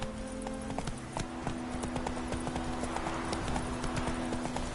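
Roach, a horse in The Witcher 3, gallops with a quick, steady clip-clop of hooves, close and even, over a faint background hum.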